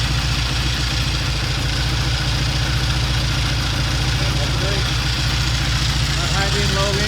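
A Triumph 350cc 3TA motorcycle engine idles steadily just after starting, a close, constant low mechanical thrum that runs through the whole stretch with no pauses, while a voice talks over it.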